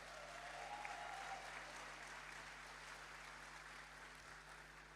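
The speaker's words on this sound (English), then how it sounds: "let's give him a big hand of applause" A conference audience at CIFP 2024 applauds Foreign Minister Sugiono. The clapping is steady and sustained but faint and distant, fading slightly toward the end.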